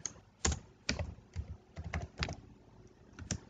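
Keys clatter on a computer keyboard as HTML code is typed into the Sublime Text editor, a close, fairly quiet run of separate clicks arriving in small irregular bursts with short pauses between them.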